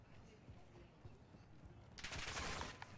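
Gunfire in the video game Call of Duty DMZ erupts as a dense burst of rapid shots over the last second, following quieter game ambience and footsteps.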